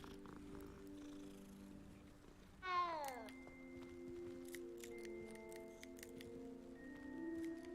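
A cat meows in Hogwarts Legacy, one clear rising-and-falling meow over soft ambient game music and faint clicks, quiet and alone without talk.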